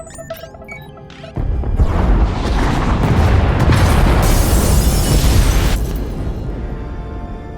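Pod bays blown apart in Star Wars: The Old Republic, a sudden massive explosion that erupts after a quiet electronic lead-in and roars on loudly for several seconds before fading.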